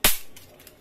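A toy SCAR rifle fires a single sharp, close crack that decays quickly into a short, faint tail.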